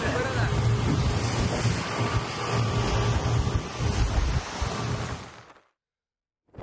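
A rough sea churns around a coast guard boat off Karaikal during a coastal security drill, with loud surf and heavy wind buffeting that hold steady, then cut off abruptly near the end.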